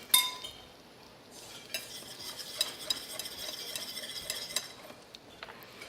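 Button mushrooms cooking in a pan, a soft steady sizzle with scattered scrapes and clinks of a utensil stirring against the pan, close and moderately quiet.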